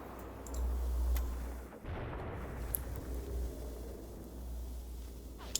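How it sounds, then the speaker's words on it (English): Gunfire and artillery rumble through a battle in the war game Graviteam Tactics, with a continuous low roar, a heavy blast near the middle and a few sharp distant cracks. "They're shooting anyway, they can see something."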